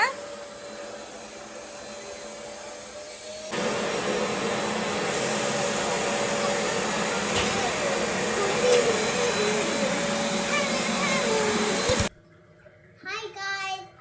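A vacuum cleaner drones steadily at close range for several seconds, then cuts off abruptly, leaving a voice talking in a quieter room.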